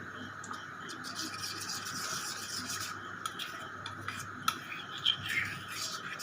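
A spoon stirring a chili chicken sauce mixture in a small bowl or cup, a light steady scraping with occasional clinks, close and faint over a low background hum.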